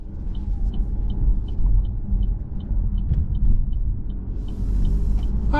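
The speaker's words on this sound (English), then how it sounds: "we're out on the road in this 24 Envista Avenir in ebony twilight metallic paint" A 2024 Korean-built Buick Envista Avenir in ebony twilight metallic paint drives along the road, its steady low engine and tyre rumble filling the cabin with faint periodic ticks above, continuous and fairly loud throughout.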